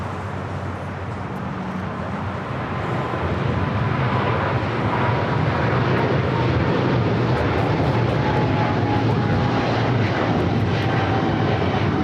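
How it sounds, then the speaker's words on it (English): A Boeing 777 freighter cargo airliner takes off at LAX, its jet roar loud and continuous, swelling over the first few seconds and then holding a dense, steady rumble. "That was the Air Cargo, the 777 freighter"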